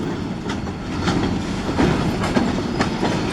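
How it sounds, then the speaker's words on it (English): A train rolls steadily over a railway line with freshly replaced ties, a continuous low rumble with rhythmic clicking wheel beats, close by and with no talk. "Haven't caught too many trains across here the last couple days"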